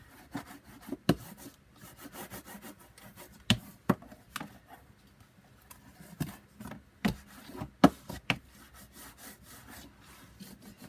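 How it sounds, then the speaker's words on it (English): Glued paper is burnished down onto a craft chest, producing quiet close rubbing with scattered sharp taps and scrapes at an uneven pace. "I'm going to burnish this all down."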